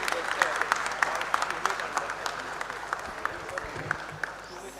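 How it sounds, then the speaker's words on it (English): A round of applause from a wellness workshop audience, sustained clapping with distinct sharp individual claps standing out, and some crowd murmur underneath. "can we have a huge round of applause for the team back end?"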